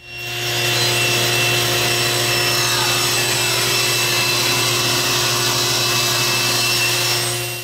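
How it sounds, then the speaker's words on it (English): Saw ripping quarter inch thick wood strips from the edge of a board, a steady continuous whine and cutting roar that holds unbroken for several seconds, close and loud, with no voices. "I want to cut some quarter inch strips off of one edge"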